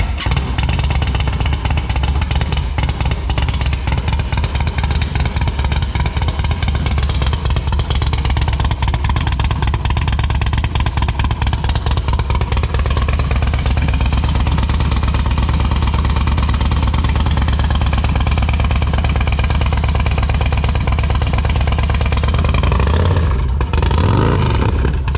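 A custom Indian Sport Chief motorcycle engine runs steadily and loud throughout, a continuous close mechanical clatter with a low rumbling drone that briefly dips near the end.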